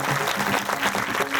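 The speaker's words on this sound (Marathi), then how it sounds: "जरा टाळ्या वाजवून कडकडा." A devotional discourse audience gives a short burst of full applause, a dense, even wash of many hands clapping together, close and loud for the whole moment.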